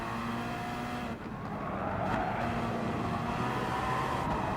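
Gr.3 race cars in the GT Sport video game roar around Blue Moon Infield A, engine notes shifting as one car moves up the inside of a Peugeot; the sound is loud and continuous with no voice over it.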